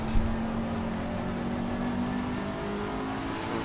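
A mid-engined Ferrari GT3 race car in a sim racing game drives around Zolder in the wet, its engine holding a steady droning whine at moderate, even loudness.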